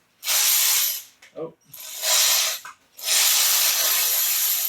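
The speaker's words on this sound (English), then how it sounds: "This bolt here is coming out kind of" A bolt is ratcheted out of a Briggs & Stratton 18 HP opposed V-twin engine in three loud bursts of rapid ratchet clicking. Brief pauses separate the bursts, and a short low sound falls in the first gap.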